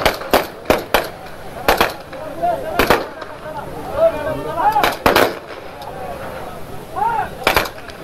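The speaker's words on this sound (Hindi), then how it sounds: "मुखाग्नि से ठीक पहले जेपी वो बंदूक की सलामी सेना की तरफ से दी गई जी" Army rifle gun salute fired at Lata Mangeshkar's state funeral, a series of sharp cracking shots, some single and some in close pairs, spread unevenly across the scene over a murmuring crowd and broadcast commentary voices.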